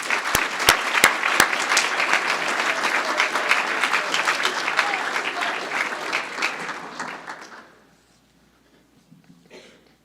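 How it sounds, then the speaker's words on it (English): At a paramedic course completion ceremony, an audience applauds the graduates on stage with a few sharp claps at the start, then sustained clapping that fades out around eight seconds, leaving near silence. "Let's get a round of applause for everybody up on the stage."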